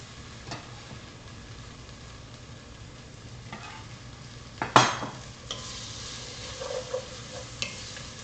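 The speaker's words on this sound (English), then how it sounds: "Now we're gonna just saute them a little bit with those onions and the garlic." Roasted Hatch chiles sizzle softly with onions and garlic in a pan, with scraping stirs and one sharp utensil knock partway through, moderately close and without talk.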